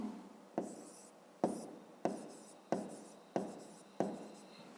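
Pen strokes on paper while writing out words in a Grade 5 maths exercise, about six short scratchy bursts in a steady rhythm, each starting sharply and trailing off, close and quiet with no talk.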